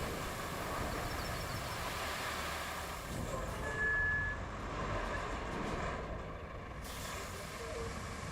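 Rumbling train engine and heavy rolling wheels from a Roadcraft game drive, a steady mechanical drone with a brief high tone and faint beeps over it, no talking.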